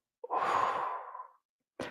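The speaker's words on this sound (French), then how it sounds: "On va faire une respiration." One long, deep breath during a guided relaxation exercise: a close, airy exhale that trails off over about a second, then a brief sharp intake. No speech.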